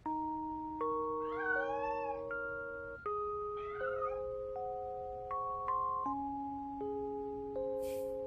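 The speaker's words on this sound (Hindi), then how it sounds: "तुम्हें ये बिल्ली ही सबसे ज्यादा क्यों पसंद है?" A lone cat gives two drawn-out, wavering meows close by, layered over gentle sustained musical chords that keep playing throughout.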